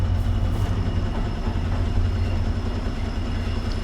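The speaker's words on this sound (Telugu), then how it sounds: "రైల్వే స్టేషన్ నుంచి ఇప్పుడే వెళ్తుంది రైలు" A train rolls past close to a railway level-crossing gate near a loading point, a loud continuous rumble of wheels and heavy engine with rhythmic rail clatter, no voices.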